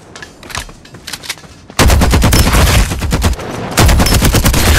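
Automatic gunfire in the video game Farlight 84: sparse distant shots first, then loud, rapid sustained bursts with a short pause between them, with no talking.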